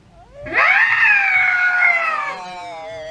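A woman in an old Turkish TV scene lets out a long, loud, piercing scream that rises sharply, holds steady for about two seconds, then fades into a quieter tail.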